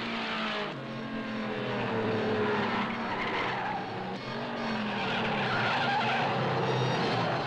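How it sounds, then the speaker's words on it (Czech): Racing cars roar past loudly at the 1963 Le Mans 24 Hours, 49 cars of various makes including new English turbine-engined cars, with continuous engine drone, pitch shifts as they pass and tire skidding, no voices. "V 24 hodinovke v Le Mans vyrazilo na okružnú trať 49 vozov rôznych svetových značiek"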